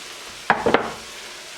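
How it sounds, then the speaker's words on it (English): Diced onion, pepper and garlic drop into potatoes shallow frying in oil, giving two or three quick close clattering bursts with a brief stir, then a soft low sizzle left alone. "Now I'm going to add our colorful onion and pepper mix with the garlic."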